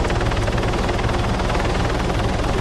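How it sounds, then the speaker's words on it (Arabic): Helicopter rotor noise over open water, a steady, dense thrumming wash that holds loud and constant with no voices. "هليكوبتر بعد يجي"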